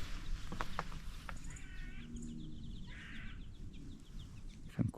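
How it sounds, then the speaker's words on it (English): Birds call in a mountain forest along the Appalachian Trail at Humpback Rocks, with scattered chirps and a few harsher caw-like calls at moderate distance over quiet outdoor ambience. "you can hear all the birds chirping"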